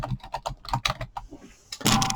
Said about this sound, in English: So I'm just going to type with the font that is there